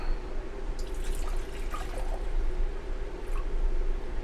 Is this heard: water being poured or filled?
yes